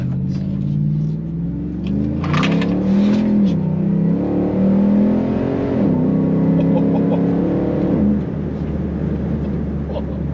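A supercharged car accelerates under throttle, its engine droning and rising in pitch through gear changes, heard from inside the cabin, loud and sustained, with someone talking over it.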